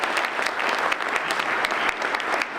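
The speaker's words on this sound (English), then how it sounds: "Round of applause for everybody." Members at a Rotary club meeting applaud together, a brisk, fairly close burst of many hands clapping that holds steady across the short stretch.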